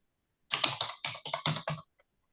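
Rapid bursts of keystrokes on a computer keyboard while an SQL insert query is typed, about a dozen quick clicks in uneven clusters, close and clear with no talking.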